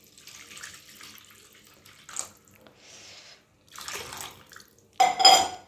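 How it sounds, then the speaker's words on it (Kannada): Buttermilk poured into a cooking pot for a doddapatre (Indian borage) majjige huli, giving several short splashy, liquid bursts with pauses between, ending in a louder, brighter splash. "ಮಜ್ಜಿಗೆ ಹಾಕ್ತಾಯಿದ್ದೀನಿ"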